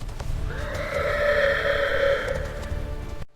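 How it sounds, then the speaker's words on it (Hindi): A horse rears and neighs loudly, one long, shrill, wavering whinny that rises and fades over about three seconds, close and alone over low background rumble. "घोड़ा आगे बढ़ने के बजाय अपनी टांगे उठाकर जोर जोर से हिनहिनाने लगा।"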